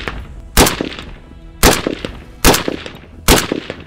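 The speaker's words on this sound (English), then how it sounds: "Micah, you give it a shot" Four sharp rifle shots firing plastic training ammunition ring out at irregular intervals, each a loud crack with a short echoing tail over quiet outdoor background.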